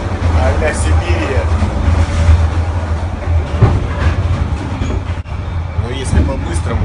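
A train in Vietnam rattles and clatters over rail joints, with a continuous loud low rumble, irregular knocks and shaking noise, and voices heard faintly beneath the din.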